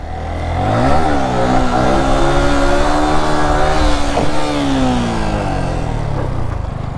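A Yamaha R15 motorcycle skidding on rough off-road ground, its engine loud and near, revving up and down in rising and falling sweeps with gritty clatter underneath.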